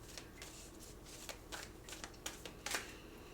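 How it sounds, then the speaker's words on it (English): Tarot cards being shuffled and pulled from a deck, a soft continuous riffling with several sharper snapping flicks near the end, close and fairly quiet with no talking. "let me pull one more card to see what comes out with the Emperor"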